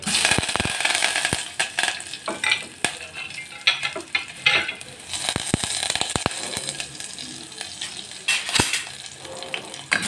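Onion, dried red chili and curry leaves fry in hot oil for tomato rasam, giving a steady, close crackling sizzle with sharp pops and stirring clatter throughout.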